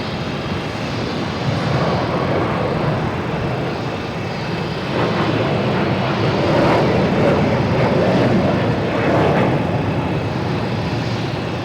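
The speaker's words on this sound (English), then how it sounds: "next taking off is Delta heading to Phoenix, and A321neo" A Delta Airbus A321neo rumbles loudly as it takes off at Boston Logan airport. The engine roar is broad and sustained and swells slightly over the span, with no speech.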